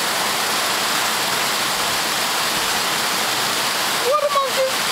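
A waterfall roars steadily, a dense, loud rush of water filling the whole clip, with a brief voice near the end.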